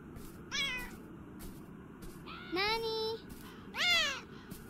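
Three distinct video-game cat meows spaced a second or so apart, rising and falling in pitch, over a steady low rumble of background noise.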